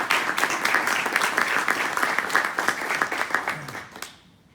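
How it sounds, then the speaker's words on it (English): A crowd claps in sustained, dense applause for about four seconds, then it quickly fades out to near silence. "Let's give Zach a huge round of applause."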